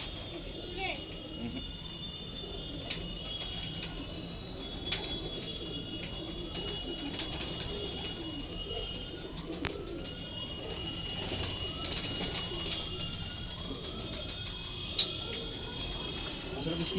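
Punjabi pigeons coo repeatedly in soft, rolling calls close by, with occasional sharp clicks and a faint background hum.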